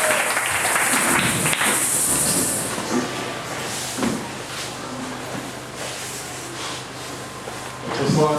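A church congregation bursts into applause for the Lord after a prayer during a sermon. The clapping is dense at first, then thins and fades as voices take over and continue under a steady hiss.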